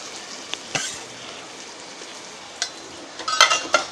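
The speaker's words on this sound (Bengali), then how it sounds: "আমি এখন প্রথমে এই মশলার মধ্যে দিয়ে দেব যে আলুগুলো আমি ভেজে রেখেছিলাম" Fried potatoes stirred into a sizzling spice masala for egg biryani, a low steady sizzle punctuated by sharp spoon-against-pan clinks and scrapes, close with no talk.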